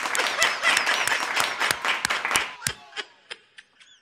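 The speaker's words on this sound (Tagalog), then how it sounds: "Palakpak." A crowd applauds in a hall during a State of the Nation Address, dense clapping that thins out into a few scattered, isolated claps near the end.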